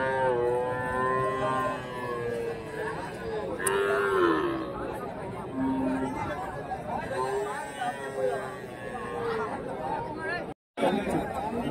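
Calves at a cattle market in Karimangalam, Dharmapuri, with a few drawn-out moos rising and falling amid constant crowd chatter and close conversation.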